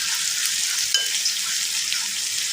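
Curry sizzles steadily in a frying pan as it is stirred, a close, even hiss with a single soft clink of the utensil partway through and no voices.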